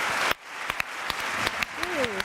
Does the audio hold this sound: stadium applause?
yes